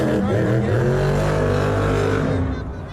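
A Megalodon monster truck at the 2019 Monster Jam All Star Challenge roars loudly with a steady, high-revving engine drone as it launches off a ramp, the sound tapering slightly at the end, with commentators talking over it.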